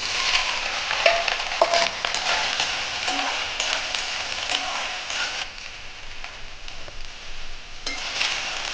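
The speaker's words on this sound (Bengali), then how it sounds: "সয়াবিনগুলো আমি ভেজে নিচ্ছি।" Soybean chunks frying in a pan for an aloo soyabean papaya curry give a steady hissing sizzle with occasional light scrapes and clinks of stirring, close and fairly loud, no voices.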